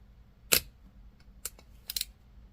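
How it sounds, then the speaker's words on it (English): Shutter mechanism of a Perfex Forty Four camera being wound during disassembly: three sharp, close mechanical clicks spaced about a second apart, with quiet gaps between them. "when I wind the shutter mechanism"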